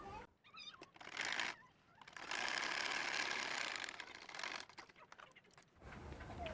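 A sewing machine stitches the side pocket of a pair of pants in several bursts of fast, close running, separated by short pauses. A cat meows faintly in the background.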